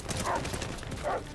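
A dog barks twice in a Call of Duty: Vanguard game scene, short gruff woofs separated by a pause, set against steady game ambience and noise.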